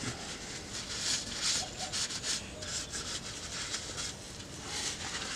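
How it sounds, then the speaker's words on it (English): A cloth rubs across the surface of the rear differential on a Toyota 4Runner, making close, continuous scrubbing and swishing with slight rhythmic surges, and no talking. "just come in, wipe all the surface down"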